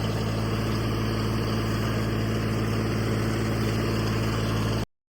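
A tractor engine runs steadily at idle, a loud, close, continuous low rumble with constant vibration for about five seconds before cutting off abruptly.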